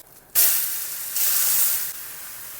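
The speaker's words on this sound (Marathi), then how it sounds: "त्याला सगळीकडनं तेल सोडून मी हे आता शिजवणार आहे" Moong dal chila batter sizzling in oil on a hot pan, a sudden loud hiss that swells again midway then settles into a steadier fry, with no talk.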